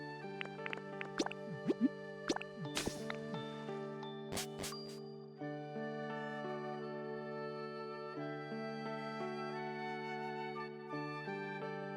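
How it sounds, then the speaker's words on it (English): A soft sparkling water chime from Pokémon Pokopia, a few bright droplet-like plinks and tinkles at first, then fading under a steady layer of calm game music. "I heard another sparkle water noise."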